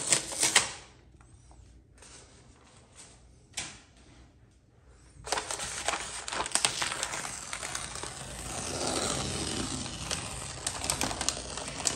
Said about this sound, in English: Now I spool it off of a 3M hand masker, okay? And so it not only applies tape, but it also applies the paper underneath the tape.